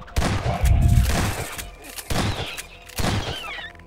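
Submachine gun firing in a horror video game, rattling bursts of rapid shots up close, three separate volleys with short pauses between them.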